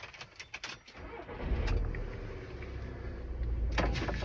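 A car ignition is switched on: a few short mechanical clicks, then a low steady hum and rumble of the vehicle's systems coming to life, close by inside the cabin.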